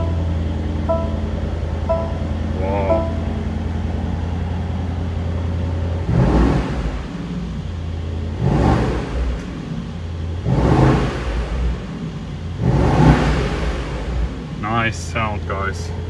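A 2022 Mercedes-AMG SL63 V8 idles with a low hum after a start-button start, then revs up four times in rhythmic bursts, loud and close, followed by a short chirping sound.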